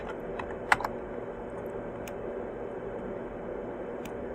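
A computer keyboard being typed on while entering an admin password during an EnGenius EzMaster setup: a few sparse, quiet key clicks with one sharper tap early, over steady low room hiss.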